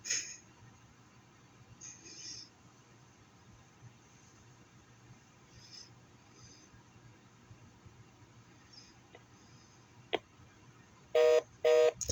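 A telephone gives call tones: two short, loud electronic tone bursts near the end after a long stretch of quiet line hiss with a few faint clicks.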